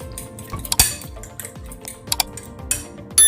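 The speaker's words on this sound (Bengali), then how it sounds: "আর গোলমরিচের গুঁড়া দিয়ে ডিমটাকে ভালোভাবে ফেটিয়ে নিতে হবে।" Eggs being beaten with pepper powder in a bowl, a utensil striking and scraping the bowl in quick repeated strokes, with brief louder clinks and a sharp knock near the end, no voices.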